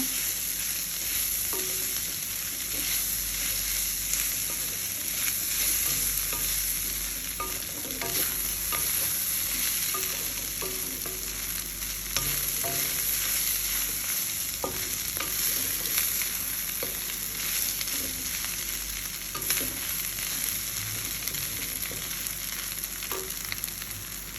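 Vegetable noodles tossed and stirred in a hot restaurant-style pan give a continuous sizzle with steady scraping and clinking of the utensil against the metal throughout.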